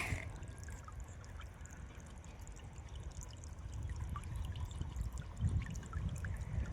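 Water pours in a steady, continuous stream with a low rumbling gurgle underneath, swelling slightly louder toward the end.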